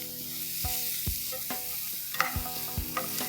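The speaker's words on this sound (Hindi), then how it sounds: "2 टेबलस्पून बारीक लहसुन, दो हरी मिर्चें। इसे अच्छे से चला लेंगे।" Chopped garlic and two green chillies sizzle in hot oil in a kadai while a spoon stirs them, with steady frying hiss and several distinct scraping strokes against the pan.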